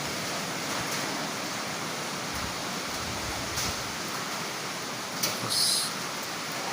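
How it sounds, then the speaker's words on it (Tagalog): Typhoon Tino's gusting wind roars steadily and loudly like surf, with a brief higher whistle rising near the end; no one speaks. "Naririnig nyo yun guys. Yung sipol ng hangin."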